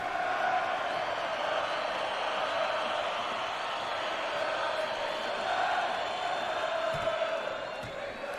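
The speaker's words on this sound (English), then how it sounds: "Crowd cheering." A video game boxing crowd in Fight Night Champion roars steadily through a bare-knuckle bout, a loud continuous wash of cheering and shouting with a few faint thumps near the end.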